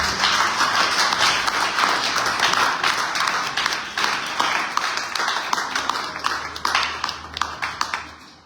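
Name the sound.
congregation applauding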